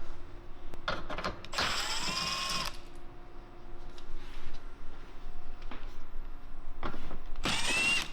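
A power tool whirs in two short bursts near the start and one at the end, backing out 10mm bolts that hold a plastic cover to the crash bar of a Toyota Tacoma during a stump bumper install, with a faint mechanical hum in between.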